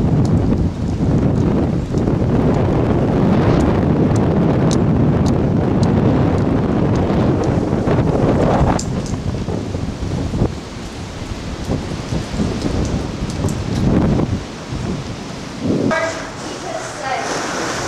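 Tornado storm 20 miles away, with heavy wind roaring against a house and rain lashing down, loud and continuous before easing somewhat partway through.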